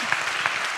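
Audience members clap their hands at a motivational talk, a short dense burst of applause with a couple of sharper individual claps standing out.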